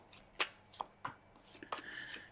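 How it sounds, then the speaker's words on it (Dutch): Tarot cards shuffled by hand in a quiet room, giving a series of short, crisp riffling snaps and soft slaps spread across a couple of seconds, close and fairly quiet. "En dan zal ik kaarten schudden om te kijken wat deze week voor jou gaat brengen."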